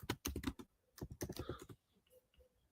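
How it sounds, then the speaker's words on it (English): Rapid bursts of keyboard typing, quick clustered key clicks close up, pausing briefly between flurries and trailing off at the end. "Typing a little too fast."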